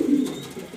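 Colorful grizzle pigeons coo in a loft, one low throaty coo swelling near the start and then fading into soft murmuring over quiet background.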